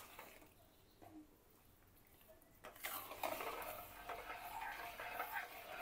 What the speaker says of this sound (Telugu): ఇంకా బాగా కలుపుతూనే ఉండాలి, అడుగు అంటకుండా.